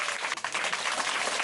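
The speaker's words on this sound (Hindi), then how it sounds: "बजाओ ताली।" An audience breaks into dense, continuous applause at a comedy magic show, many hands clapping together at a steady loud level for the whole stretch.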